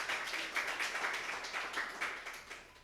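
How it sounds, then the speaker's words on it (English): A crowd applauds at a community tribute event, with steady, moderately faint clapping that runs throughout in a soft, continuous patter. "Everyone give Stan Votri from 4 points a round of applause."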